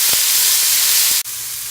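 Chopped vegetables, including finely cut beans, sizzle loudly in a hot pan, a steady close hiss with a brief stir or break partway through.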